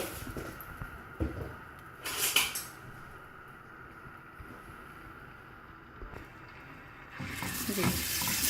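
Ginger garlic paste sautés in two to three tablespoons of hot oil in a pan, giving a soft sizzle with brief bursts of stirring that grows louder and hissier at the end.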